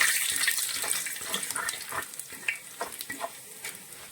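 Urad dal and dried red chillies frying in hot oil for a coconut upma, a steady crackling sizzle broken by light scraping stirs and small clinks, close and moderately loud with no talking.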